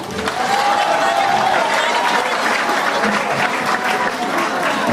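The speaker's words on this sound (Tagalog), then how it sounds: "Palakpakan nyo naman ang snake ng PDP laban, senatorials." Dense, loud applause from a crowd at a political proclamation rally honoring senatorial candidates, sustained and even throughout with a hint of cheering mixed in.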